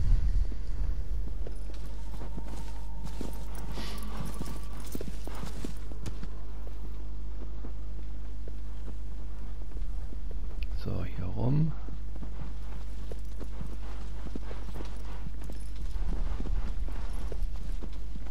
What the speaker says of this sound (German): Dann immer hier über die Brücke reiten und dann wieder links abbiegen oder rechts abbiegen